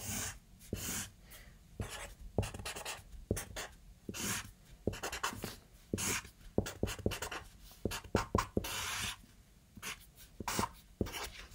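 Pen or pencil drawing a calendar grid on paper for a math word problem, heard up close as steady scratchy strokes in short bursts with brief pauses between lines, no talking.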